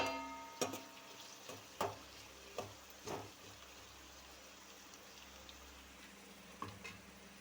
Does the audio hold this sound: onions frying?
yes